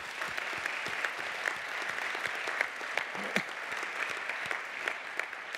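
A room full of people clapping steadily, a dense patter of applause that holds at an even level throughout.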